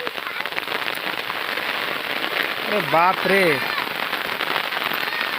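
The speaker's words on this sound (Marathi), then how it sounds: "जोरात पाऊस आलेला आहे" A sudden heavy downpour in the Konkan countryside hammers down in a dense, loud, steady patter, with a man's brief exclamation rising over it partway through.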